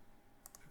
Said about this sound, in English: I'll keep on pressing the left click.